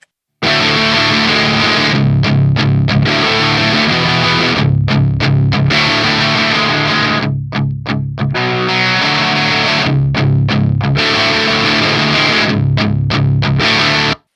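An electric guitar runs through the Volcano Crunch channel of a Soldano-style amp sim, playing loud, crunchy distorted riffs with chugging chords, brief clipped stops and ringing sustains, with nobody talking.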